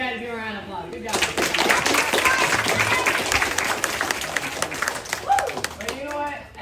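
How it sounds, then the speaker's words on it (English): A crowd applauds loudly and steadily at a boxing and martial arts open house, the clapping swelling fast and holding for several seconds before tapering off, with voices mixed in at the start and end. "I want you guys to give a round of applause."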